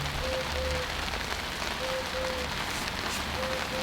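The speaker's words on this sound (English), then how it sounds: "I don't believe it, we've got rain." Rain falling on a worksite in the first shower after weeks of dry weather, a dense steady hiss of drops on surfaces, moderately loud and unbroken, with faint short tones recurring in the background.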